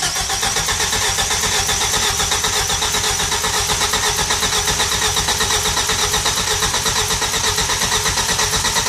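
Nissan S13 engine cranking and catching after four years in storage, a loud, continuous rough churning that rattles on for several seconds without a pause.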